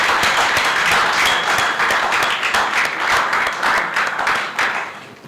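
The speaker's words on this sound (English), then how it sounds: "let's give ourselves a resounding round of applause" An audience at a university program launch in Accra gives itself a resounding round of applause. The clapping is loud and close, full and sustained, swelling and dipping slightly before easing off at the end.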